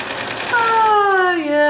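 A sewing machine fitted with a presser foot whirs briefly, a rising mechanical tone that starts partway through and runs steadily to the end, loud and close, with a voice speaking just before it.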